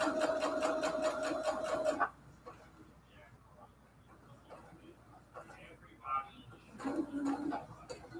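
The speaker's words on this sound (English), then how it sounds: "I feel like I hear like a little buzzing or something around on this side of the sewing machine." A sewing machine runs beside quilted cathedral window pillowcases, giving a loud, steady mechanical buzz for about two seconds, then going quiet before a shorter burst of the same whir returns near the end, with soft talk in between.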